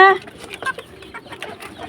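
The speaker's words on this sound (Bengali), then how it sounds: "মোরগটা বেশি বড়" A rooster and hens cluck in a farmyard on a cold winter morning, with rapid close clucks and short calls in quick bursts.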